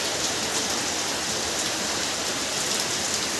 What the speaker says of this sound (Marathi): बघू शकतात पाऊस धमाकेदार आहे असा पाऊस पडतो आज